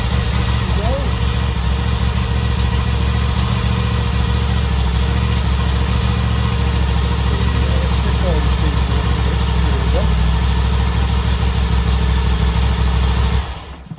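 A 2021 BMW V85TT motorcycle with a V-twin engine fitted with a Mistral fuel boost plug idles in neutral. The engine gives a loud, steady rumble with an even pulse that holds the whole time, then cuts off abruptly at the end.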